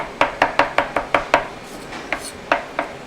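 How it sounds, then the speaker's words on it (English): A knife chops fresh fruit on a cutting board for a summer bruschetta, giving about a dozen crisp, close knocks in a quick, steady rhythm with a short pause before the chopping resumes. "So we're going to chop that really fine."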